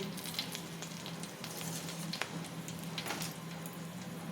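Dried red chillies crackle and sizzle in a little hot oil as a tempering, a steady close frying hiss with scattered small pops and no talk.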